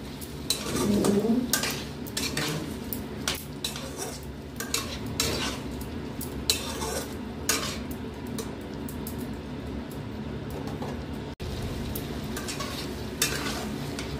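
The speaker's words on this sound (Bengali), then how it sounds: "এরপর মশলাটার সঙ্গে ভালো করে মিশিয়ে নিচ্ছি।" A utensil stirs spice paste with a little water in a pot with cauliflower and potatoes, making steady scraping, clinking strokes over a continuous soft sizzle, close and fairly quiet.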